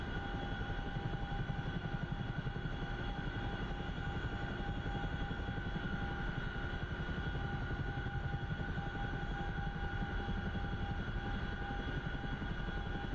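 Steady, loud rotor and engine drone of an Apache attack helicopter in a combat video game, a continuous even whir holding without pause throughout.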